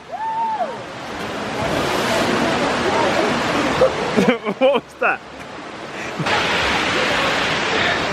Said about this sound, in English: Jumping into this waterfall.